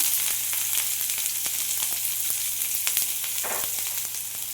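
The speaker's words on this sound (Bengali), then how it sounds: "তেল গরম হয়ে গেছে, এখানে আমি একটা বড় পেঁয়াজ ছোট করে কেটে রেখেছিলাম সেটা দিয়ে দিলাম" A large onion, chopped small, sizzles in hot oil for chicken bhuna, a steady, close hiss broken by faint crackles and pops, without any talk.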